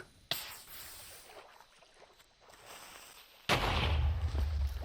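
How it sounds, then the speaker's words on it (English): Creeper explosion hitting the Ender Dragon in the Minecraft video game, a short sharp blast early on, then a louder, sustained rumbling boom that fills the last second and a half. "the dragon got blown up by a creeper"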